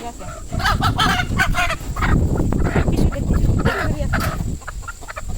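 Chickens clucking and squawking loudly and continuously up close, several birds at once, with a busy, cackling flock sound throughout.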